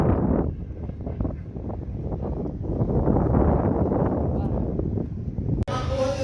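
Gusty wind buffets the microphone in a constant low rumble, with voices talking faintly underneath.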